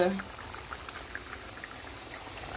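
Fish stew simmering in a pot, a soft, continuous bubbling that stays faint and even throughout.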